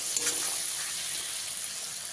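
Chopped tomatoes fry in a pan with a soft, steady hiss and sizzle that stays low and even throughout.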